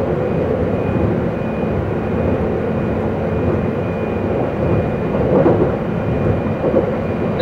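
Inside a 681 series Hakutaka limited express train running toward Kanazawa, a steady loud rumble of wheels and motors fills the whole stretch, with a faint continuous whine on top and no talk.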